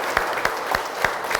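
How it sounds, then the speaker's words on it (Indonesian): A classroom audience applauds a student group after their presentation, a steady patter of clapping from a small crowd, close and even throughout. "Kita berikan aplaus untuk kelompok 1"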